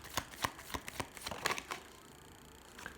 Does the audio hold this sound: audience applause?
no